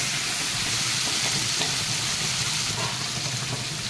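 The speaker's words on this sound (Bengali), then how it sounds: "চিংড়ি মাছ বেশি ভাজতে হয় না, আমি একটু নেড়ে চেড়ে একটু কালারটা চলে এলেই হয়" Tiger prawns fry in a hot pan with a dense, steady sizzle while being stirred, the crackle loud and close throughout with no voices.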